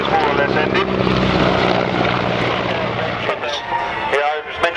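A Lockheed C-130E Hercules at an air show makes a loud, steady propeller drone as it passes close by, fading somewhat toward the end, with a commentator talking over it.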